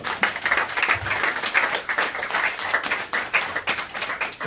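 A church congregation applauds in worship, giving dense, sustained clapping from many hands that fills the room evenly throughout, with faint voices mixed in.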